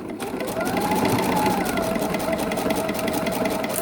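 A sewing machine zigzag-stitches fabric rope at its widest stitch setting, running in a steady, fast, close hum without pause and with no talk.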